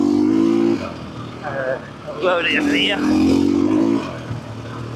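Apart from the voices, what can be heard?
motorbike engine pulling hard past half throttle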